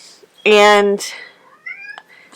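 A pet cat gives one loud, drawn-out, sad-sounding meow close by, followed by a few fainter, rising vocal squeaks.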